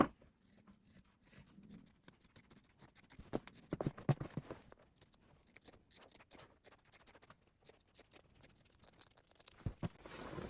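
Scissors snip through shirt fabric in a quiet room, giving soft irregular crunching cuts and clicks, some close and sharper, others faint.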